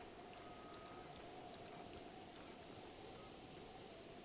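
Steady rain falls in the video game Zelda Breath of the Wild, a continuous even hiss of drops with a faint tonal hum beneath, holding at low level throughout.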